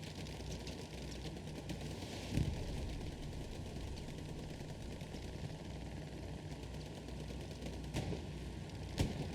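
Scattered gunshots crack in Hell Let Loose during an esports match, mostly distant and sparse, with a few sharper reports over a constant low rumble of engines and battle noise.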